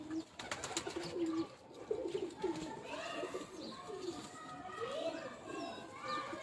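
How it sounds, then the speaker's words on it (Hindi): Kamgar pigeons coo in soft, repeated rolling calls, close by, while people talk over them and other birds chirp in the background. "कमगर कबूतर थे।"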